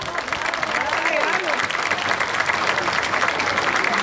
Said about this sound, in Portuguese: Para cima, salva de palmas.